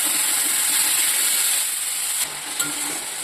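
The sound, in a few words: spice paste cooking in a pan with a little water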